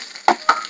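Mustard seeds, urad dal, cumin, garlic and dried red chillies are being tempered in hot oil for a Telugu dish, giving a steady close sizzle with two short crackling pops.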